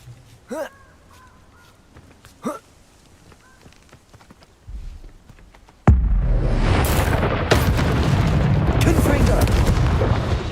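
A Confringo fire-blast spell detonates in Hogwarts Legacy, first as faint game sounds with a voice, then a sudden loud burst that rolls into a sustained roaring, crackling blast lasting several seconds.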